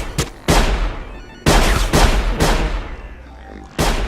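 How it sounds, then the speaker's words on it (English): Enemy gunfire in the game Sir, You Are Being Hunted: loud, close shots crack out at irregular intervals, each with a trailing echo that fades between blasts. "They're shooting at me."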